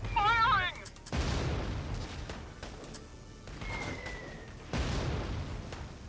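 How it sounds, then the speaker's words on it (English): Gunfire in the Valkyria Chronicles 4 war strategy game, with loud broadband bursts and booms: one at the start, another just after one second and a third near five seconds, over a continuous battle rumble. "Keep firing!"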